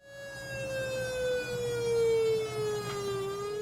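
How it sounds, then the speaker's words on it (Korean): An air raid siren wails through village loudspeakers on Ulleungdo island, a single loud sustained tone sliding slowly downward with rich harmonics, filling the whole stretch without speech. "공습경보 사이렌은 울릉도 마을마다 설치된 스피커를 통해 2분여간 울렸습니다."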